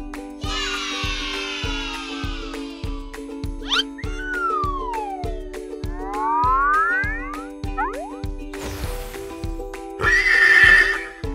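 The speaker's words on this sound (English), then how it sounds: "Horse." A horse neighs in a clear, loud whinny over a bouncy cartoon music bed with a steady beat and playful sound effects.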